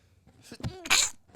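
A single sharp sneeze from a person during a podcast conversation, close and fairly loud, with a short breathy intake before it.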